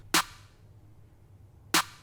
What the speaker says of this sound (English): and then the snares that hits like this.